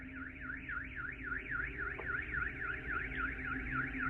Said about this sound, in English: setting off nearby car alarms